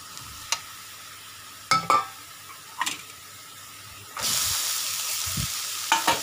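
Shallots and chopped onion fry in a pan for a spicy chilli chicken curry, with sharp stirring clatters followed by a louder burst of sizzling as more onion hits the hot oil, close by and with no talk.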